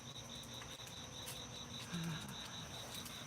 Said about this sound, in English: could hear crickets